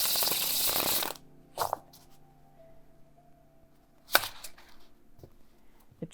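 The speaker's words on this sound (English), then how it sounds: "It shuffles, for a bridge shuffle, very nicely." A plastic Rider Waite Smith tarot deck is bridge shuffled: a loud, quick riffle burst up close, then a quiet stretch broken by two soft clicks of the cards settling.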